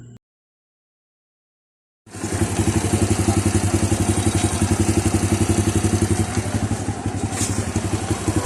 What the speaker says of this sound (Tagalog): Ito naman ang tunog ng makina pagkatapos natin mapalitan ng timing chain.